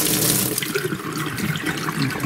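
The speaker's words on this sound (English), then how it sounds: "I hear water running." Water rushes steadily from a pipe during a hose bibb replacement, a continuous loud hiss with faint splashing and no talk.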